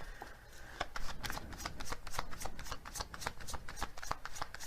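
Oracle cards are riffled and shuffled in a quick, even rhythm of crisp flutters and taps, close and clear, with no talking.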